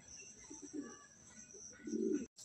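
Andhra pigeons cooing inside a loft, soft low coos in two short bursts over a faint steady background hum, fairly quiet and unaccompanied by talk.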